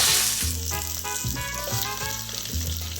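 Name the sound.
onion, tomatillos and garlic frying in oil in a pan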